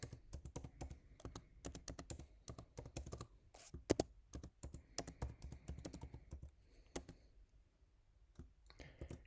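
Fingers type an email address into an online giving form on a computer keyboard, a rapid run of close clicking keystrokes with brief pauses, no voices.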